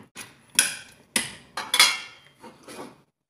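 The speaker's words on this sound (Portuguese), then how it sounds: "Vou misturar aqui o caldinho um pouquinho." A spoon stirs beef rib broth with cassava in a pressure cooker, knocking against the metal pot. Five or six sharp, close clanks come at uneven intervals with short quiet gaps between them.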